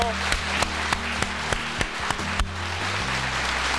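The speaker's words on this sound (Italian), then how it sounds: "Un applauso." Applause in the control room of the Italian TV station Canale 48 in 1980, a small group clapping in sharp, regularly spaced claps over a steady electrical hum, with voices talking in the room.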